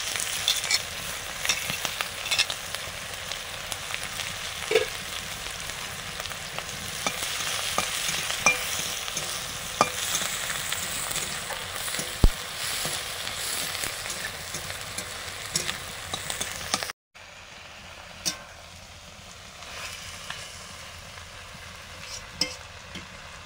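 Five-spice, green chilli and onion fry in mustard oil with a steady, moderately loud sizzle and occasional stirring scrapes. The sizzle cuts off briefly and then resumes more quietly.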